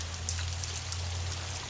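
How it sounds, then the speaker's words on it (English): Rain falls outside an abandoned 1960s cabana under renovation, a steady soft hiss with faint scattered drop patter, heard alone at a moderate distance over a low hum. "it's a rainy one, isn't it?"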